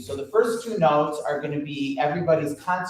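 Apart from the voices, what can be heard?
No everyday noises stand out.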